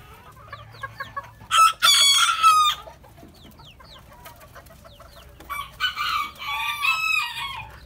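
Fancy-breed roosters crow loudly twice, close by, with scattered soft clucking in between against a quiet farmyard background.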